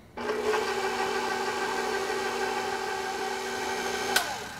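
An electric mixer running on low speed through sour cream and heavy cream, a steady close motor whir with a constant tonal hum from start to finish, ending in a short clack as it stops.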